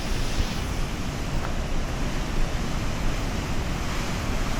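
Floodwater rushes out of a dam in the Derwent Valley, a steady, loud, dense roar that fills the whole moment without any pause or voices.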